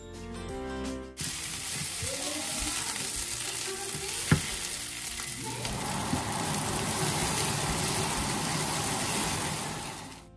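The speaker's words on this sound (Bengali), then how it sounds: "এবার এগুলো বেশ খানিকটা সময় ধরে নাড়তে হবে যতক্ষণ না কাঁচা গন্ধটা চলে যায়" Chopped onion, garlic, ginger and green chillies sizzling in a pan, a loud continuous fry with occasional stirring clinks, the hiss swelling brighter partway through.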